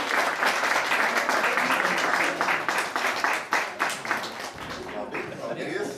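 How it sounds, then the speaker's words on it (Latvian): An audience at a church graduation ceremony applauds a young group, with steady, dense clapping that thins toward the end while voices talk over it. "Aplausi brīnišķīgai jaunai grupā."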